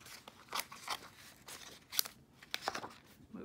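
Scissors fussy-cutting paper for a Bible journaling page, giving a run of close, quiet snips and crisp paper rustles at an uneven pace, with no talking.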